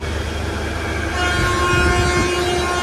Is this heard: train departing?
yes